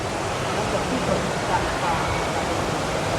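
A Thai waterfall rushes in a steady, broadband wash of falling water, close and continuous with no pauses.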